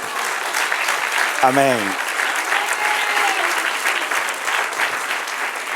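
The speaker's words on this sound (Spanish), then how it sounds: "Denle un aplauso al Señor" A congregation applauds steadily through a church Bible class on Old Testament history, the dense clapping running the whole time, with one voice briefly calling out over it.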